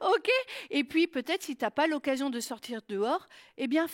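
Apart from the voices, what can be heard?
None of the usual background noises is heard.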